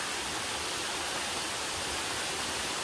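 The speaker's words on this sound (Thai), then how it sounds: "น้ำตกตาดเหมยเขาเป็นน้ำตกที่สูงนะคะ แต่ว่าตอนนี้น้ำน้อยค่ะ" Tad Mei waterfall at Khun Tan in low flow, a steady broadband rush of falling water with no break.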